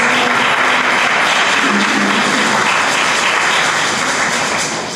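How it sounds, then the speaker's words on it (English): A crowd at an event applauds in a loud, dense, sustained wash of clapping with no break, tailing off slightly at the very end. "Round of applause, please."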